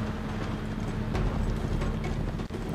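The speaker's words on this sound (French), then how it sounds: "Bon, on retourne sur cheval." Horse hooves clop in a fast, steady gallop in the video game Uncharted 3, close and fairly quiet under a low hum of game ambience, with no talk.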